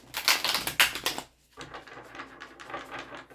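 Rapid riffling clatter of cards being shuffled, a dense burst followed by a brief pause and a second, softer run of shuffling.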